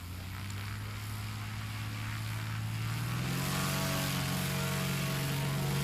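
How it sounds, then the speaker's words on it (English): A Cessna 205 propeller plane at a STOL competition runs up for takeoff, a steady droning engine roar that rises in pitch partway through as it accelerates, loud and fairly near. "keep your eyes on this aircraft, this beautiful Cessna 205, as he puts in his last run of the day"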